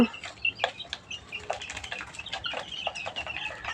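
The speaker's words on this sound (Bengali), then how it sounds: "আমার লেয়ার মুরগিগুলো আলহামদুলিল্লাহ আজকে প্রায় এক মাসের মতো" Layer hens on a poultry farm in cold winter weather cluck repeatedly in short, irregular bursts, fairly close and clear with no talk over them.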